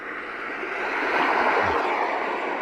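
A steady, rushing wash of ocean-wave surf noise from a sleep sound machine that swells slightly midway, smooth and continuous with no talking.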